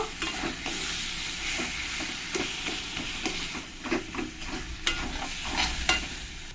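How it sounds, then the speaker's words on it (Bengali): Mushroom masala spices with salt and turmeric being stirred in a hot pan, giving a continuous close sizzle with a faint hiss of steam and repeated light scrapes of the spoon. "এবার দিয়ে দেবো এর মধ্যে এক চামচ লবণ আর দিয়ে দেবো একটু হলুদ দিয়ে মশলার সঙ্গে ভালো করে মিশিয়ে নেব"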